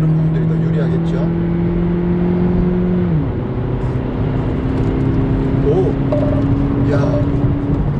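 A Hyundai Ioniq Hybrid car accelerating on the road, its steady engine and motor drone dropping in pitch partway through, then climbing slowly again, with a voice talking over the cabin noise.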